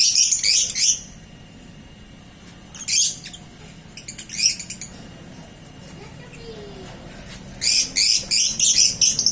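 Pet lovebirds, a flock of about thirteen in a cage, burst into several loud, rapid bouts of high chirping with quieter gaps between, against a steady low background hum.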